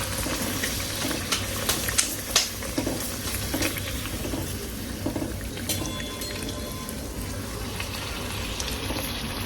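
Food frying in a pan at home, a continuous close sizzle with light stirring clatter and a few sharp knocks.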